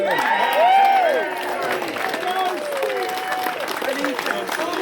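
Crowd applause and cheering for an injured junior player arriving on crutches at a club gathering, a burst of clapping swelling then tapering, with voices talking over the noise.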